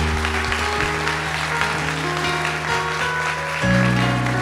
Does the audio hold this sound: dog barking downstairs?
no